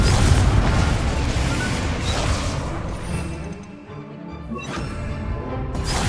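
A blasting-spell explosion from the video game Hogwarts Legacy: a loud, dense booming blast that rumbles on and slowly thins out over several seconds.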